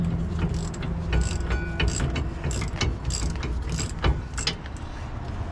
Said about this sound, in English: since I already got it loosened up, I'm just gonna use a ratchet to take it all the way back down